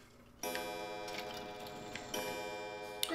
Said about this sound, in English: Right, clock pendulum, here we go.